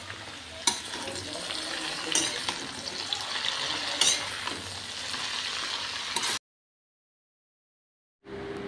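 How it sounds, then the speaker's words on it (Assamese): Leafy greens and spices sizzle in a hot pan while being stirred, a close steady frying hiss broken by a few scraping clinks of the utensil, then a brief silent gap before the sizzling resumes. "এয়া শাকখিনি অকণমান লৰাই দিছোঁ"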